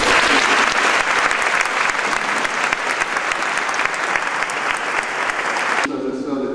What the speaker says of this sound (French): j'aimerais que nous applaudissions aussi ces bénévoles qui ont fait énormément.